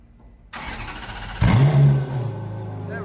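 Ferrari F430 Scuderia with its 4.3-liter V8 fires up after a moment of quiet, the starter catching into a sharp, loud bark that settles into a rumbling idle close by.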